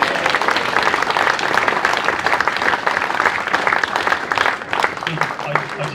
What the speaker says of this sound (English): I detected the biggest cheer of the afternoon